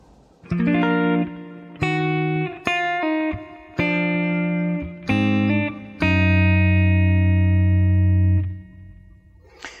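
Electric guitar playing a passage slowly, about seven distinct picked notes and chords spaced roughly a second apart, the last ringing long before fading, heavily effected and distorted tone, close and loud without speech.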